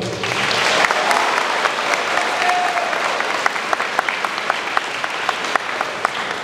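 School audience applauding and cheering at a morning assembly, dense steady clapping with scattered whoops, fairly loud and sustained.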